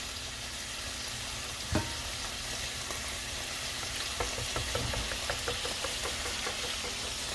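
Bacon sizzling and frying in a pan, a steady crackling hiss with scattered pops and a clink near the start, close and fairly loud.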